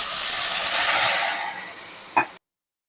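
Mashed cooked dal hits sizzling onions in a hot pan, setting off a loud, bright hiss that fades over a couple of seconds, followed by one short thump before the sound cuts off.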